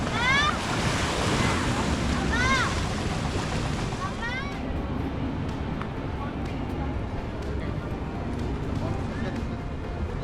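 Ocean waves at a beach in Puerto Vallarta, Mexico, with loud, continuous surf and rushing water, and heavy wind buffeting the microphone throughout.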